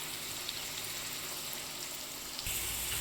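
Pumpkin pieces fry in hot oil with a faint, steady crackling hiss that grows slightly louder near the end.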